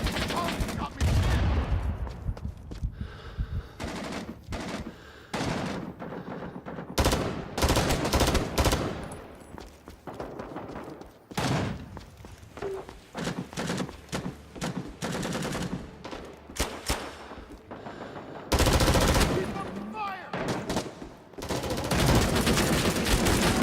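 Gunfire in the Rising Storm 2: Vietnam video game, loud rapid bursts of rifle and machine-gun fire with scattered single shots and short pauses, close and intense throughout.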